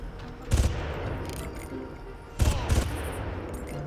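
Gunfire in the video game Far Cry: two loud bursts of rapid shots, one early and one later, over a steady game background with no talk.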